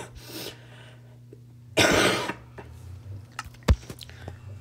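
Human cough during a Minecraft session, a single harsh, loud cough burst over a quiet, low background hum, followed by faint breathy sounds and a short click.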